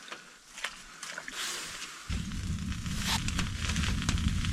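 Soup of onions and jalapenos simmers in a pot inside a heated camping tent during a snowstorm, bubbling and sizzling close by, growing into a denser, louder boil partway through.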